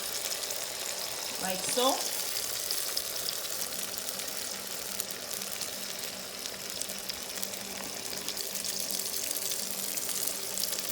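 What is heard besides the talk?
egg frying in a pan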